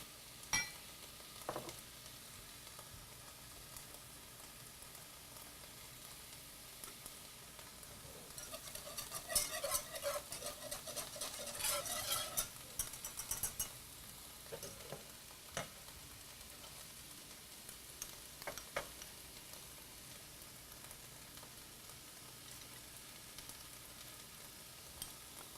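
Flour whisked into a sauce in a pan, a soft steady sizzle with faint scraping whisk strokes and light ticks, quiet and close, swelling briefly midway before settling back to a low simmer.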